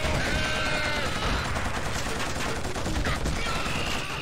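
Suppressive gunfire in the Killzone video game: a sustained, loud fusillade of rapid machine-gun bursts that rattles on without a break, with faint game voices mixed into the din.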